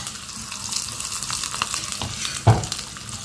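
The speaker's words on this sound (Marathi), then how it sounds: "तडतडले." Whole cumin, chili, curry leaves, mustard seeds and sesame crackle and sizzle in very hot oil for a tomato salad tempering, a steady close hiss dotted with sharp pops and one loud snap near the end.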